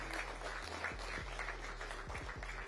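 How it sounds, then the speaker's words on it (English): Faint applause from an indoor crowd at a Hawaii esports invitational greets the Stony Brook and Michigan State college teams, scattered clapping over a low hum. "a round of applause for you guys before we leave out."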